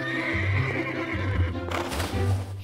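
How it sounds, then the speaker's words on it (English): A cartoon horse neighs and whinnies in a Mongolian countryside scene, with clip-clopping hooves; the calls come loud and close in several bursts across the short clip. "You can ride a horse?"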